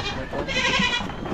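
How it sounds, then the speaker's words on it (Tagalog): A goat bleats nearby in a short wavering call, alone and fairly clear, from a small group of male goats kept on a farm. "Ayaw kumain sa palanggana yung mga kambing natin."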